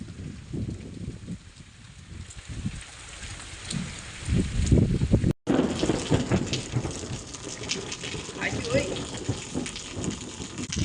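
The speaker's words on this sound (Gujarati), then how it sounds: "આપણે આજે અમારા ગામમાં થઈ ગયો છે વરસાદ" Rain falls steadily with a soft patter on surfaces, while a voice speaks intermittently over it.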